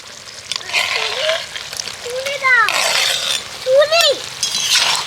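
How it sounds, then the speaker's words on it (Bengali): Vegetables sizzle and fry as they are stirred through a spice masala in a pan, with steady crackling and scraping throughout while a voice speaks over it. "এবার মশলার সাথে এগুলোকে ভালো করে নেড়ে চেড়ে কষাতে হবে"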